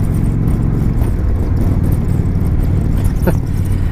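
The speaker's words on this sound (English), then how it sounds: "So this thing has an 1800cc engine." A 2017 Indian Chieftain Dark Horse motorcycle with an 1800cc engine rumbles loudly and steadily while riding, a deep constant drone dominated by low engine tones and wind, with no speech.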